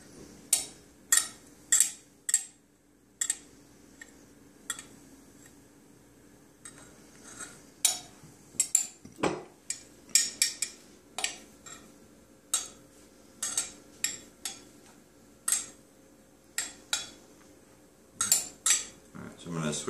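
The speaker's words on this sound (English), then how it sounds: "eventually I'm going to have to work my way down to a spatula here and get all the chocolate out" Metal knife scraping and clinking against truffle molds to free leftover chocolate, a steady series of sharp, close scrapes and ticks at an irregular rhythm, with no voices.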